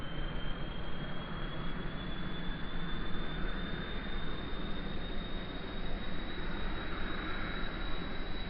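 A science rover in a video game drives along with a steady, droning engine hum and constant airy rush, unbroken throughout with a faint high tone above.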